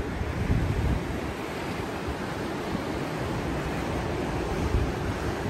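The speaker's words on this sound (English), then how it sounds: "Let's listen to the waves and the traffic." Steady, broad roar of ocean surf washing in continuously, heard from a Royal Caribbean cruise ship, with a low rumbling undertone of traffic and no clear breaks or voices.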